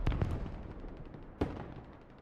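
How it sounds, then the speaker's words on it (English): Artillery shells land on a Canadian base in an Afghanistan war game, a quick cluster of dull distant thuds at the start, then one sharper booming impact a moment later, fairly faint and fading into low rumble. "they're hitting it with artillery"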